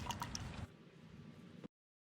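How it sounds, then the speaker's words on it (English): Engine oil being poured into a Kia Telluride, a faint, close liquid glug and splash for under two seconds, followed by silence. "We're going to start by adding just a little bit of oil to make sure we don't have leaks"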